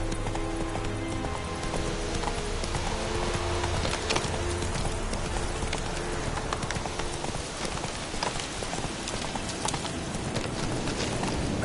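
Roach the horse gallops in The Witcher 3, hooves clip-clopping in a fast, steady rhythm over continuous ambient noise, moderately close and alone without talk.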